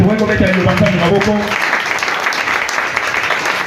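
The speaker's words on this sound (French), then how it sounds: "Est-ce qu'on peut acclamer la parole de Dieu?" Church congregation applauding and cheering for the word of God, loud clapping with a sustained voice over the first part, then a broad, even wash of applause.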